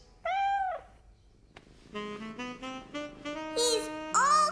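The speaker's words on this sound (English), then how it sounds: "He's purring." A cartoon kitten meows repeatedly in clear, rising and falling calls, several in a row at close range; no steady purr stands out, and a child-like voice may be mixed in briefly.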